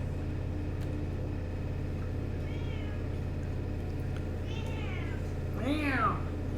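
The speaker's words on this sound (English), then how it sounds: "That's the cat." A cat meows indoors, three rising-falling cries that grow louder, the last one strongest, over a constant low mechanical hum.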